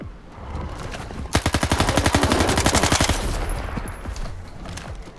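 Rapid 9mm handgun fire in the video game S.T.A.L.K.E.R. 2, a fast string of about twenty sharp shots in close succession, loud and near, over steady game ambience.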